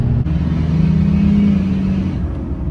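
A Duramax diesel pickup with a 4-inch exhaust and mild modifications revs up close by, its rumble rising and holding before dropping off, with no talking.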